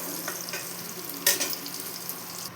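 Boiled potatoes frying lightly in oil for a bhuna aloo masala, giving a soft steady sizzle with brief stirring scrapes and a louder crackle burst partway through.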